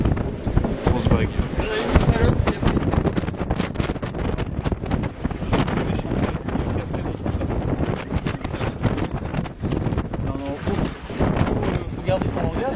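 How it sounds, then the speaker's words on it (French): Heavy sea waves crash and wind roars steadily across a sailboat, a dense, continuous wash of water and gusting noise up close, with voices speaking over it at times. "mais c'est des grosses vagues."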